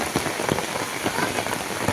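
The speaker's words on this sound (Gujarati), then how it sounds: "વરસાદ ચાલુ થઈ ગયો" Steady monsoon rain pours down across the whole stretch, a dense, even hiss of drops striking hard surfaces with soft patters spread throughout, no voices over it.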